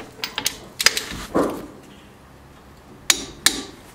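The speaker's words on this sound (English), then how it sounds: "So I got my torque wrench set to 90." A torque wrench set to 90 tightens the rear brake bolts on a 2005-2010 Jeep Grand Cherokee WK. Scattered metallic clicks and ratcheting taps come close up, with a sharp pair of clicks near the end.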